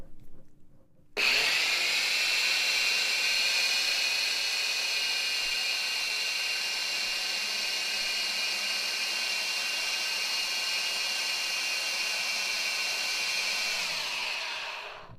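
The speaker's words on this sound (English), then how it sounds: "we're going to have a little bit of noise, and they're going to hopefully cancel it for me while we grind up" A blender grinds cashew dressing with a loud, steady high-pitched whir that starts abruptly and runs continuously for over ten seconds before winding down, with no talking.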